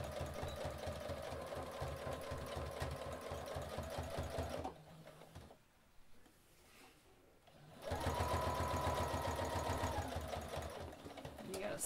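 A sewing machine stitches the top of a shoe bag in a fast, steady mechanical chatter, pausing for a few seconds before starting again, quiet and close.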